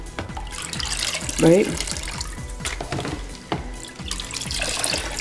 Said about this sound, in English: Wash away the heavy stones.